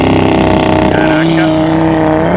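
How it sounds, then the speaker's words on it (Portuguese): Five-cylinder car engine idling and revving up close with a strong low harmonic drone and a brief rising rev, while a man exclaims over it. "esse carro aqui, ele é um carro motor 5 cilindros"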